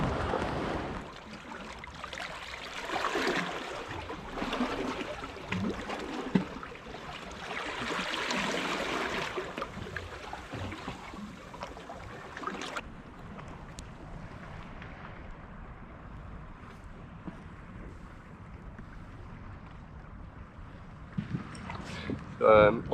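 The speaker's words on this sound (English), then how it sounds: "I think I have 6 or 7 kilometers to paddle back home." Paddle strokes from an inflatable kayak fitted with a homemade spray deck, out on the sea, come as splashy bursts with steady wind noise on the microphone, quieter water after midway, and a louder rustle at the end.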